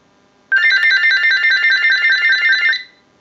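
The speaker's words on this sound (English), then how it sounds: "send a ring cycle like you were getting a call" A General Electric 6.0 cordless telephone rings from a test analyzer's ring cycle, a single electronic warbling burst of about two seconds, loud and steady, with silence before and after.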